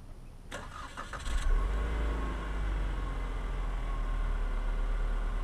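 A 2014 Cadillac ATS with a 2.0L four-cylinder turns over on remote start, cranking briefly before settling into a steady, low idle rumble.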